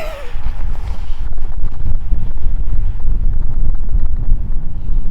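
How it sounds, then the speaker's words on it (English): Strong wind in the open North Dakota countryside roars and buffets the microphone continuously, a loud, rumbling gusty blast that barely lets up. "it's still pretty windy"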